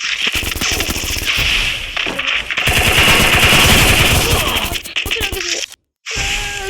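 Rapid sniper and automatic gunfire rattles in a video game, dense cracking bursts with brief gaps, loud and close, then a sudden silence before firing resumes.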